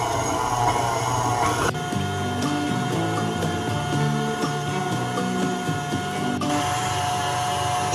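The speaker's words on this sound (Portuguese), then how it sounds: "eu vou bater as 6 claras em neve." An electric mixer whips six egg whites to stiff peaks for a cake, giving a steady whirring hum throughout with a rhythmic rattling from the beaters against the bowl.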